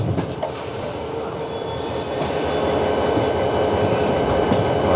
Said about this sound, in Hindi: भगत की कोठी का लोकोमोटिव और उसके साथ तेजस एक्सप्रेस